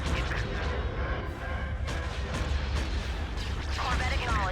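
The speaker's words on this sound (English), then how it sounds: "Cannons charged. Cannons loaded." Starship cannons fire repeatedly in the space strategy game Star Wars: Empire at War, heavy booming blasts in a dense barrage, with spoken unit responses mixed in.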